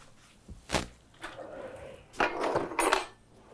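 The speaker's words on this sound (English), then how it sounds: "So I'm gonna get our big saute pan over here going." Clatter of a large metal sauté pan being handled and set down on a stove, a few sharp knocks and scrapes in an Indian home kitchen, close and moderately loud with no talking.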